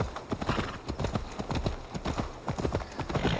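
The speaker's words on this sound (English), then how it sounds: "Riding, I'm riding a horse, I'm riding a horse, of course" Rhythmic clip-clop of a horse's hooves at a quick gallop in the video game Assassin's Creed Valhalla, with a neigh in the mix, fairly quiet and continuous throughout.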